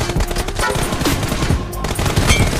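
Rapid automatic gunfire in a shooting video game, loud and continuous bursts filling the short stretch with no talk.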